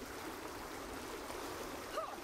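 Steady broadband rush of a flowing water current in the survival game Frozen Flame, continuous and fairly even throughout, with a faint brief tonal chirp near the end.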